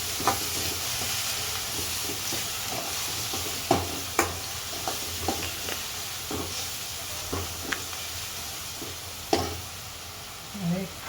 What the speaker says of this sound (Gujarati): થોડી વાર આપણે એને હલાવશું.